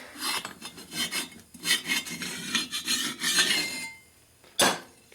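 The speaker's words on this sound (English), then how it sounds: "So first thing I do is file the gasket surface down on this surface here" A hand file rasps across the gasket surface of a Harley panhead motor block in a steady series of close, scraping strokes, ending with a short metallic clink.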